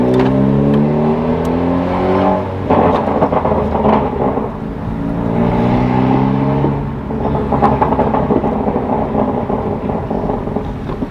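A catless 2017-or-later Honda Civic Si exhaust revs in repeated rising pulls, each followed by sharp crackling pops on lift-off, loud and close with no talking.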